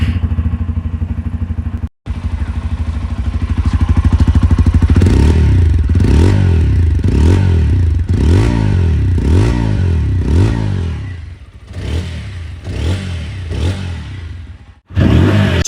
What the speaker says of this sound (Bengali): এবারের এক্সস্ট সাউন্ড কি আপনারা একবার শুনে নিন।